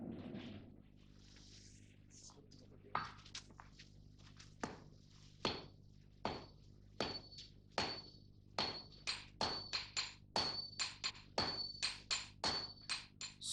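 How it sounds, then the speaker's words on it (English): Blows of a hammer on iron during Japanese swordmaking ring out as sharp, metallic strikes, sparse at first and then coming faster in a steady rhythm, fairly close and clear with no talk. "It is purified by hammer blows and by pouring a liquid made from ash over it."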